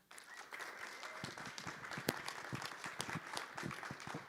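Audience applause welcoming a speaker at a Unity spiritual gathering, steady scattered clapping from a modest crowd, fairly faint and continuous.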